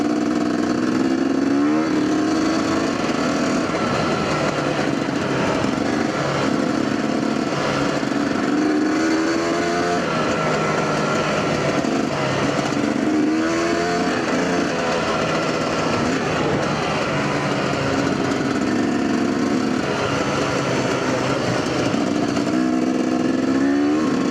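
A two-stroke dirt bike ridden on a rocky trail at night, its engine droning steadily and close throughout with repeated revving surges and dips as the throttle opens and closes.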